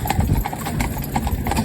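Hooves of four horses pulling a four-in-hand carriage clip-clop in a quick, steady rhythm, close by, over a low rolling rumble.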